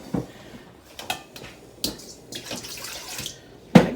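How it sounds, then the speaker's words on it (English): Water runs into a pan being rinsed out while a pasta sauce is cooked, with clinks and knocks of the pan against the sink under the splashing, close and fairly quiet, without talk. "And I'm going to rinse this out with some water."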